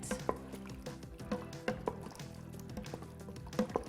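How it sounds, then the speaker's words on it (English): Chicken and spices are stirred in an Instant Pot on saute, with scattered spoon clicks and soft scraping against the inner pot over a steady tonal background. "Mix it all around a little bit"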